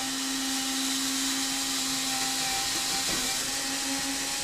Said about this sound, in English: Where your screw goes, I'll drill a hole, because otherwise when you put your screw in, you will split that shim in half.